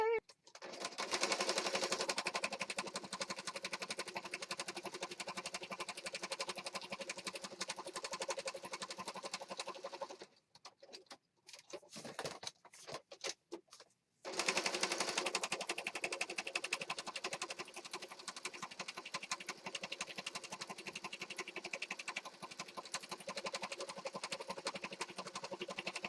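A sewing machine stitches around the edge of a junk journal page, running in long steady bursts at close range with a brief pause of scattered stops in the middle.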